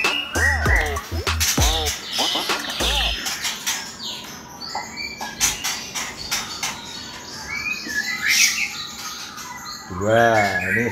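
Magpie robins at a bird farm give bright, repeated chirps and whistled calls, loudest at the start and end, with people talking nearby throughout.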